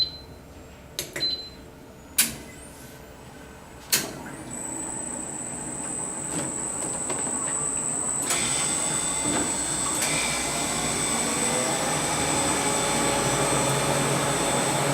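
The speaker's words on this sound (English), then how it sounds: "the machine is ready to be turned on. So you can go ahead and press on the auto button." A Presidential soft-serve ice cream machine starts in auto mode after a few sharp clicks, then runs with a steady motor drone and a high whine that builds and holds loudly.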